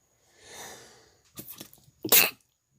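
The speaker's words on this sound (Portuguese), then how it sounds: "Segurar o espirro não deu certo" A single sharp sneeze burst near the end, preceded by a breathy inhale and a short stifled catch of breath.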